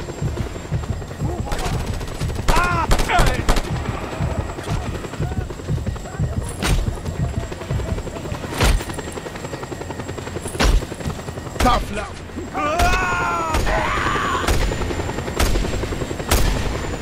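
In the video game Just Cause 2, a helicopter's rotor thrum runs steadily under repeated bursts of gunfire and sharp single shots, with voices heard over the action.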